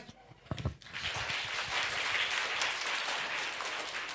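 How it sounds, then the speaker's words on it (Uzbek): Applause from an audience at a school alphabet celebration, greeting children's recited poems: a few sharp claps, then a dense, steady wash of clapping that holds to the end with no talking. "Qani bolajonlarimiz she'rlarga bir qarsak"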